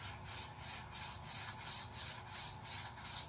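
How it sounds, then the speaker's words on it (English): A metal blade is rubbed back and forth against a concrete floor in steady, even strokes, producing a soft, gritty scraping rhythm at close range, fairly quiet, with no talking. "To sharpen these, you just put it up against like a concrete or a hard floor, preferably a concrete."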